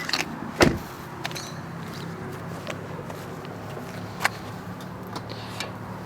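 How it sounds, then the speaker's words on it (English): The trunk of a 2013–2015 Nissan Leaf unlatches with a sharp, close thunk, followed by a few lighter clicks and soft knocks in a quiet setting. "So let me open the trunk. You're gonna hear it."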